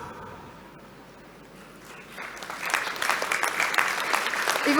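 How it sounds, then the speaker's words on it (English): Graduation ceremony audience in Singapore breaking into applause, faint at first and then swelling into loud, dense clapping that keeps building toward the end. "Please stand up and give them a big round of applause."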